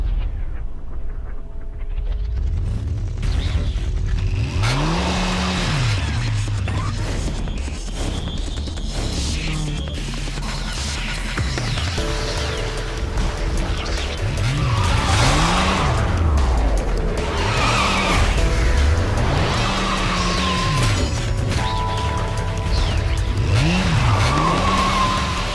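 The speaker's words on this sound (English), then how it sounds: "What is that? An angel motorcycle?" An angel motorcycle from the video game Bayonetta revs and skids repeatedly, engine pitch rising and falling in rhythmic swells with tire squeals, loud and continuous throughout with no talk.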